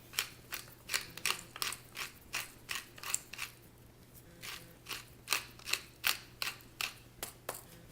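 A pepper grinder cracks black pepper over thick spring onion pesto with a quick series of dry, close clicking crunches in irregular bursts, fairly quiet, with no talking.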